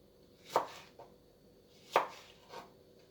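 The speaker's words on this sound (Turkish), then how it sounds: "küp küp doğruyoruz" A few slow, separate knife cuts dicing zucchini into cubes on a board, close and crisp, with pauses between the strokes.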